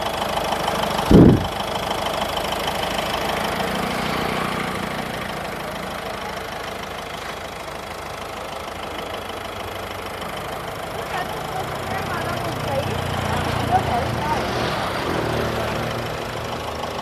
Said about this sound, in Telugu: ఇంజన్ కూడా చాలా స్మూత్ ఉందండి